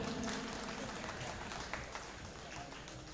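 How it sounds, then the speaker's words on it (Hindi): Audience applause at an India Meri Jaan award ceremony in 2013, a dense, fairly steady patter of many hands with crowd noise and voices mixed in throughout. "तालियां बजाते रहिए।"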